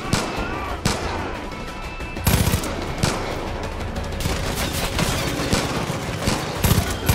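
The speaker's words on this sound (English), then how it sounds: "shooting is not my strong point in this game" Gunfire in the video game Far Cry crackles in rapid bursts and sharp single shots, loud and dense over a constant noisy backdrop, with several heavier blasts scattered through.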